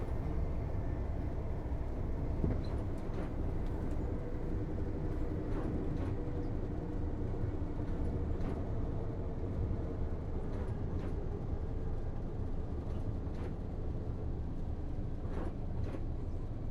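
An electric train runs along the East Coast Main Line in Train Sim World, a steady low rumble with periodic clicks of wheels over rail joints, continuous and fairly loud throughout.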